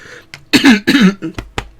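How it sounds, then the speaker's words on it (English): A person clears their throat in several short, rough bursts, close to the microphone, with brief gaps between them. "I need to clear my throat."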